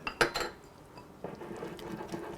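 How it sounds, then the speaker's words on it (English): A whisk clinks sharply against a bowl while mixing a thinned glaze in a kitchen, with a few bright metallic taps at the start followed by softer, quicker scraping strokes. "And then whisk it. We're going to whisk it together."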